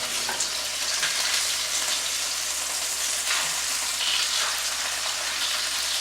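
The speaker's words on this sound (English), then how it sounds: "Only takes about a couple seconds to sear each side" Seafood sears in a hot pan, a loud continuous hiss of sizzling oil with faint clicks from a fork or tongs, steady and close throughout.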